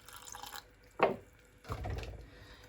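Milk pours into a mac and cheese roux sauce in a pan, two faint liquid splashes and gurgles about half a second apart, quiet and close.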